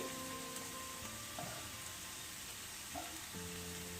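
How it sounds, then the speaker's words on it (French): Onions frying and caramelizing in a pan, filling for bourek, give a steady close sizzle with a few light stirring clicks and a faint tonal hum underneath, and no one speaks. "elle est devenue dorée pardon, et en même temps elles sont bien caramélisées mes oignons"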